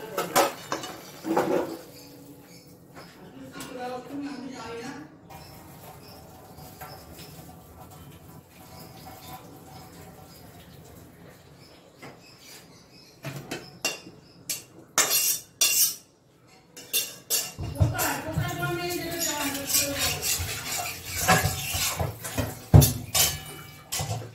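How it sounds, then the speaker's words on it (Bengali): Steamed jackfruit for an echor chingri dish is tipped from a vessel into a pan, with clinks of metal utensils and dishes, light sloshing and a louder clattering scrape and pour toward the end. "এঁচোড়টা এখানে আমার ভাপানো হয়ে গেছে, আমি এটা ঢেলে নেব।"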